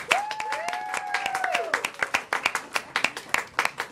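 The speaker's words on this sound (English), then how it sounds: "Give her a round of applause." Audience applause at a local TV channel anniversary show, a burst of clapping from a modest crowd with sharp individual claps, while a voice briefly sings or calls out over the start.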